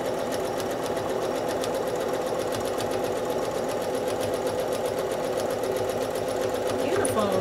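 Sewing machine stitching a quilt house block, running with a fast, steady mechanical patter throughout while people talk over it.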